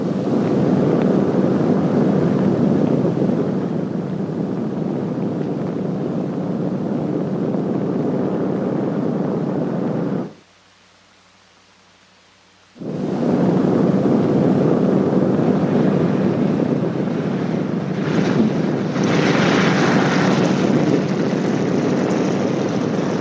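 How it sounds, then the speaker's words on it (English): An airplane landing gives a steady, loud engine and wind roar that drops out abruptly for a couple of seconds, then resumes at full strength and continues. "When you touch the ground, the plane should be slightly tail low and going between 95 and 100 miles per hour."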